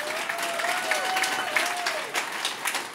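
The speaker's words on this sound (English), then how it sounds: "Applaud for that right now, please." A church congregation at Harvest Kumulani Chapel applauds, a dense, moderately loud patter of many hands that holds steady and begins to fade near the end, with a voice sounding briefly over it.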